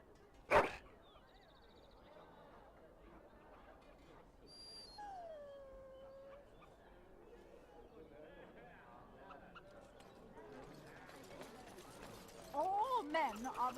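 A puppy whimpers and howls in the fantasy role-playing video game Dragon Age: Origins, thin whines and a wavering howl rising amid game music, ambience and character dialogue, with a sharp hit near the start.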